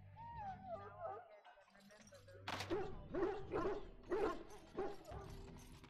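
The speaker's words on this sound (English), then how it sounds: "I must get the hounds ready for battle. Half the dogs are sick from darkspawn blood." Hounds in the Dragon Age Origins PC game give a run of yips and whimpering barks, four or five sharp calls in a row after a voice speaks over quiet game ambience.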